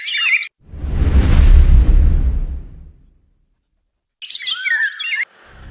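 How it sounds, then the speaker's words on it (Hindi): Birds chirp on a spring morning in Amritsar in April 1919, with two short, bright bursts of twittering, one at the start and one near the end, separated by a deep rushing whoosh. "पक्षियों की आवाज"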